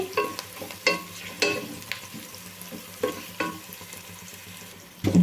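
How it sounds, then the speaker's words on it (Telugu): Onions frying in oil for restaurant-style basmati rice biryani, a close sizzle punctuated by regular scraping stir strokes about every half second, with a louder knock right at the end. "ఉల్లిపాయ మంచి కలర్ వచ్చిన దాకా ఇట్లా కలుపుతానైతే వేయించుకోండి"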